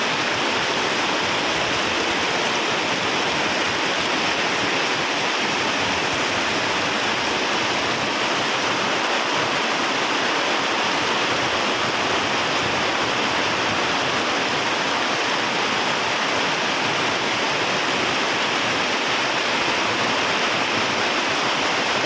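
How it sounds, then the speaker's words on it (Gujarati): Heavy rain pours down in Surat as a dense, unbroken hiss that stays loud and even throughout, with no voices or other sounds breaking through. "સુરતમાં ધોધમાર વરસાદ."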